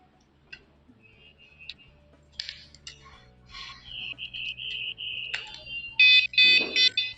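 A 113 dB wireless vibration-sensor bicycle alarm sounds in short beeps and chirps, building to a loud, sustained piercing siren-like tone with bursts of rapid pulsing near the end, alone without voices.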